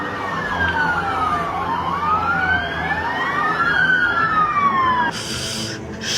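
A police car siren wails in a loud, continuous rising and falling sweep, close by and alone for about five seconds before cutting off abruptly near the end.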